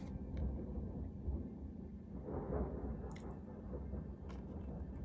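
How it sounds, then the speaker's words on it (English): Thunder rumbles low and steady for the full stretch, swelling slightly near the middle, with faint dripping and storm ambience over it and no voices. "I hope you can hear that thunder."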